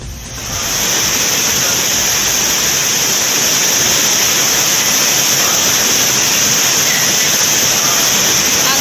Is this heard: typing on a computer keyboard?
no